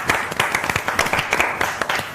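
Studio audience on a morning show claps for young taekwondo champions, a handful of distinct close claps in an uneven, loose rhythm, short and bright.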